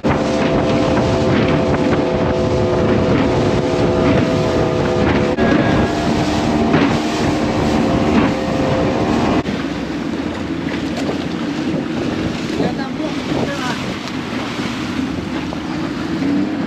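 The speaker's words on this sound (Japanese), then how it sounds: "船っていうかボートに乗って戻りたいと思います" Small motorboat returning from the water village in Brunei, a continuous engine drone with water rushing past the hull and heavy wind buffeting the microphone, loud and close for the whole stretch.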